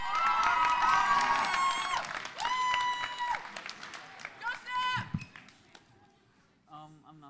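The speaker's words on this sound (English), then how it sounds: "Keep that applause going for your next poet on the mic, Sam, from grade 12" Audience of a grade 11/12 spoken word poetry event applauding and cheering for the next poet, loud broad clapping and shouts that swell and fade, with some voices and a short bit of talk near the end.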